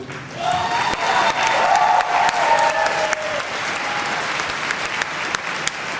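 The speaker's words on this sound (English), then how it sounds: "And I think she deserves a round of applause too." Applause for Linda at an anime convention closing ceremony, a full crowd clapping steadily with a few whoops near the start, sustained for about six seconds.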